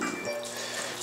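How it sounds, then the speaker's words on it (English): Water poured into a bowl of cereal at home, a brief steady splashing trickle close to the mic with no talking over it. "Put the water in there."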